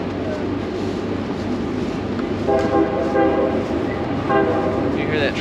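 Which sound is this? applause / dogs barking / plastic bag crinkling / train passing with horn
train passing with horn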